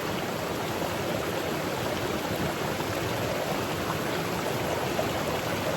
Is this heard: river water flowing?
yes